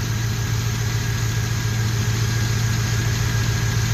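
A 5.7 Hemi V8 with no radiator fitted idles steadily and close, a faint tick running through the constant engine drone.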